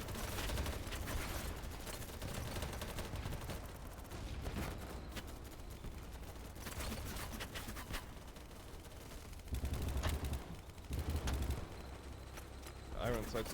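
Heavy shotgun blasts from the SG in the game BattleBit, mixed into busy, fairly faint combat noise with several louder booming shots, while a voice talks over much of it.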